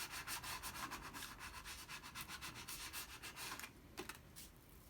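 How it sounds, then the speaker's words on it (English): A tool burnishes a green paper craft piece into position, making a quick series of close, dry rubbing strokes with a steady back-and-forth rhythm that quiets near the end. "again, burnish that into position"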